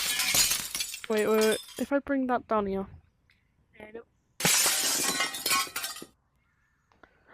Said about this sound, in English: Breaking glass, because that's basically the whole point of this video.